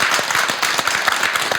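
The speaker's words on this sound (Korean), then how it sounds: "그렇게 생각하시면 박수 한번 보내주시죠." A studio audience at a television talk show claps briskly, a brief burst of crisp, overlapping handclaps at steady volume.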